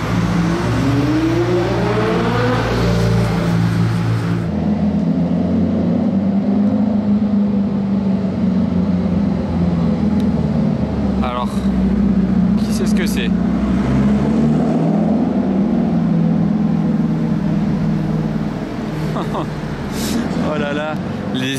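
A Ferrari F12 Berlinetta fitted with a non-original aftermarket exhaust rumbles and revs on a street in Monaco, its engine note rising and falling loud and close, while people talk nearby.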